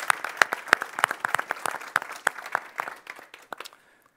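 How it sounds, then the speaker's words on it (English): An audience at a symposium claps in scattered, distinct hand claps that thin out and fade to silence after about three and a half seconds. "let's also have a round of applause for our unscripted panelists here"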